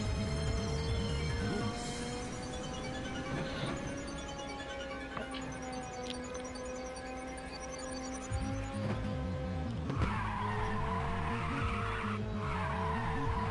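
Racing car in Ridge Racer 2 roaring at high revs with layered engine tones and squealing tires, pitch dropping and surging again as a burst of nitrous-style acceleration kicks in near the end.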